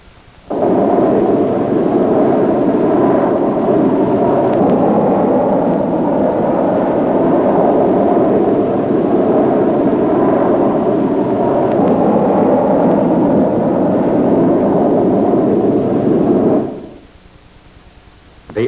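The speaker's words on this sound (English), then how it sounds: "The aircraft is first test flown by one of the Avro test pilots." Avro CF-100 Canuck jet fighter on a flight test, a loud, steady broadband jet roar holding for about sixteen seconds before cutting off sharply near the end.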